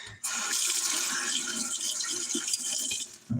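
Running water rinsing, a steady close splashing rush that lasts about three seconds, alone and with no talking.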